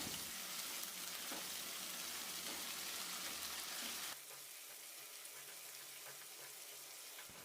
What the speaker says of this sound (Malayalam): ഇഞ്ചി വെളുത്തുള്ളി ചതച്ചതാണ് അതും കൂടി ചേർത്തിട്ട് ഒന്ന് വഴറ്റിയെടുക്കാം